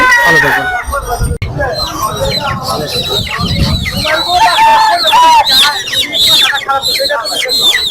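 Chickens and roosters at a busy poultry market in Mirpur, Dhaka, clucking and crowing loudly and repeatedly close by, with people talking in the background.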